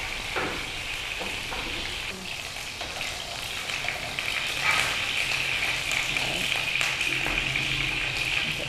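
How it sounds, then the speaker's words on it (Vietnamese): Mushrooms fry in hot oil in a pan and give off a steady, bright sizzle throughout, with occasional stirring clatter, and the frying grows slightly louder partway through. "bây giờ mình sẽ cho nấm vào mình rán để nó tạo độ dai của nấm nhé"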